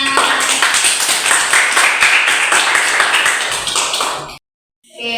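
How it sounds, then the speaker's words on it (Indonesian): Classroom students clap after a discussion-skills presentation, a dense, steady patter of hands for about four seconds that cuts off abruptly, leaving brief silence before sound returns. "Oke, beri tepuk tangan."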